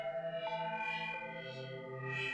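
Synth patch run through two distortion effects in parallel in Ableton Live 12, a sustained buzzing, harmonically rich tone with steady pulsing and brighter swells, loud and alone with no talk.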